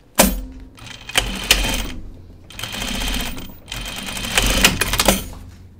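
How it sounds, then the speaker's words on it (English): A sewing machine runs in three loud, fast bursts of rapid mechanical stitching on a jacket cuff, with short pauses between runs and no talking. "The machine sounds a little different after the incident."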